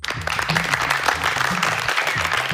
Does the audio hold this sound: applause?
yes